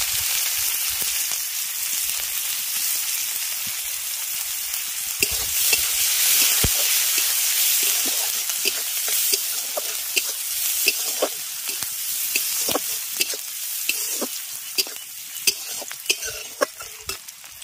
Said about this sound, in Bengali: তেলের মধ্যে দিয়ে দিচ্ছি গোটা জিরে, আদা আর রসুন কুচি, পেঁয়াজ আর কাঁচা লঙ্কা কুচি